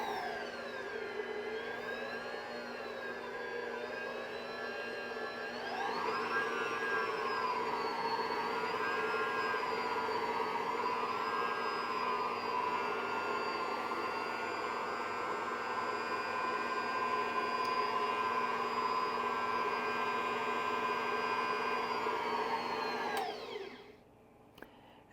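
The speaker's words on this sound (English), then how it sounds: "Lower the mixer. And then start it back up low and slow." A stand mixer motor runs on low speed while whipping cream into homemade butter, giving a steady, loud whine that rises in pitch after a few seconds, holds evenly, then cuts off near the end.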